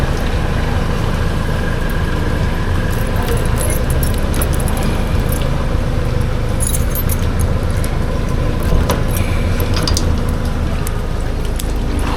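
Keys jingle and rattle almost continuously against a loud, dense background of engine rumble and road noise, with no talking.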